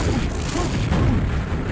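Rocket explosions in a competitive video game match form a dense, loud booming rumble that fills the whole short moment.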